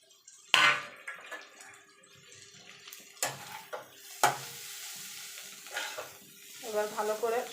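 Egg chowmein noodles being tossed with fried vegetables in a pan: intermittent spatula scrapes and clatters over a soft background sizzle, close by, with a few louder knocks and a brief voice near the end.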